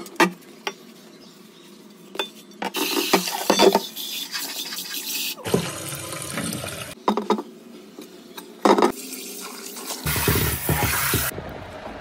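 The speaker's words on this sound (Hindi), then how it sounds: "उसके बाद मैंने बर्तन धोना चालू कर दिया है" Brass utensils being washed with water at home: bursts of clattering metal and splashing, rinsing water alternate with quieter gaps, close and fairly loud, with no talking.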